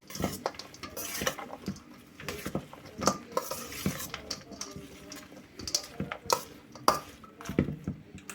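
Nugget taco filling being mixed in a bowl, with irregular scraping and clinking of a utensil against the dish and soft stirring bursts, close and fairly quiet, with no talking.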